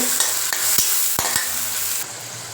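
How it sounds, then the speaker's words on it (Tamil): Tomatoes being stirred in a frying pan for egg rice, a steady close sizzle broken by several sharp scrapes of the spoon against the pan, with the frying noise easing off near the end. "போட்டு இது நல்லா மிக்ஸ் பண்ணுங்கள் தக்காளி வந்து நல்லா குழைய வேகணுங்க"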